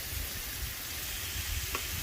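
Marinated chicken fajita meat seasoned with garlic, peppers, onions, lime juice and lemon pepper sizzles steadily on a hot flat top griddle, a continuous broad hiss with a brief clink near the end and no talking.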